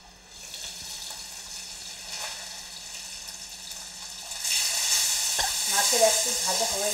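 Spice masala stir-fried in a pan, a soft steady sizzle with light scraping that grows louder and busier about halfway through, with a few clinks and water-like splashes near the end.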